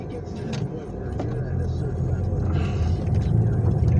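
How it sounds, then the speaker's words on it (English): A car crawls along behind a huge, slow-moving truck, giving a steady low road rumble and engine drone heard from inside the cabin that swells gradually, with faint passing-vehicle noise on top. "I'm stuck behind a ginormous truck that is going, just poking along"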